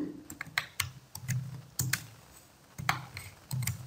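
Computer keyboard keys clatter in quick irregular bursts as a username and password are typed, with short pauses between groups of keystrokes, close and clear.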